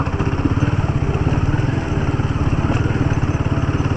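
A motorcycle engine runs steadily and loud at close range while riding a rough, partly broken mountain road, with a rapid even thumping pulse and rattling clatter throughout.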